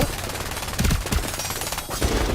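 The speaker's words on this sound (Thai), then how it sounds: "ยิงยิงยิงยิงยิงยิงยิง" Gunfire in the shooter game FragPunk: dense, rapid bursts of shots come close and loud over a busy mix of game sound.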